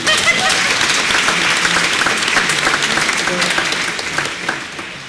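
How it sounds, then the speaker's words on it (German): An audience of about 42 people claps their hands together, a dense, steady round of applause that carries on loudly for several seconds and then tapers slightly toward the end. "Da müssen wir noch einmal Hände klatschen."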